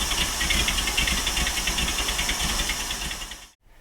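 A 1979 Jeep CJ5 engine running on a cheap carburetor, a loud, steady, close rumble with a rough pulsing texture and hiss that cuts off abruptly near the end.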